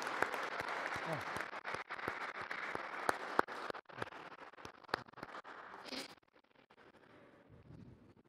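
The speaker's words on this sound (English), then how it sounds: "Let's give them all a big round of applause" Audience applause for former executives at the grand opening ceremony of the TCCC multi-purpose hall in Toronto, a sustained clapping wash with sharp individual claps that fades out after about six seconds.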